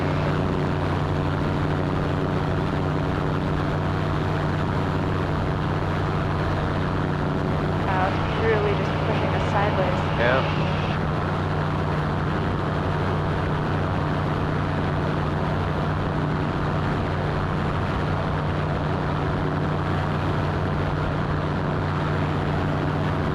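A seaplane's engine and propeller drone steadily in flight over a lake, a constant loud hum from inside the cabin, with brief faint chatter in the middle.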